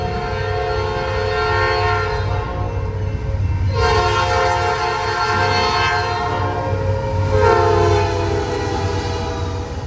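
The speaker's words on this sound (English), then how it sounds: "Another eastbound stack train, CN-106, hustles more containers towards Montreal." A CN eastbound container stack train rolls past at Brockville with a steady, loud rumble of wagons and wheels, its horn sounding in long blasts partway through and again near the end.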